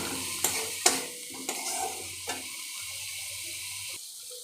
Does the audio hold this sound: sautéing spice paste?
yes